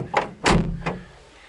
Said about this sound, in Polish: Drzwi zamknę